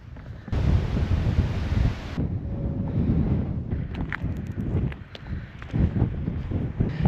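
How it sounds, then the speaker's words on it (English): Strong gusting wind on a hilltop in Wales buffets the microphone with a loud, continuous low roar that surges and eases, with no voices. "I must say, it's extremely windy here."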